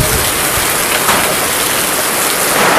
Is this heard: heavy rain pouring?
yes